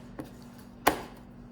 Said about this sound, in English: give you guys a little bit more of the satisfying chocolate chopping